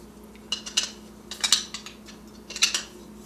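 A camping stove is screwed onto a Jetboil Stash pot, giving three clusters of small, close metallic clicks and scrapes with short pauses between them.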